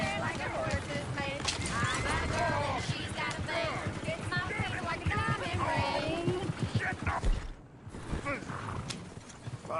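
Horse hooves clip-clop steadily through a busy outdoor scene, close and fairly loud, with a horse whinnying and several people talking over the hoofbeats throughout.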